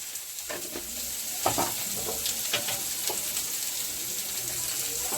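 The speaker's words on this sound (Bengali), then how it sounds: "এবার বেগুনটা একটু ভেজে নেবে ভালো করে।" Eggplant fries with turmeric in a hot oiled pan, a constant crackling sizzle with scattered sharp pops and stirring clatter, fairly quiet and without speech.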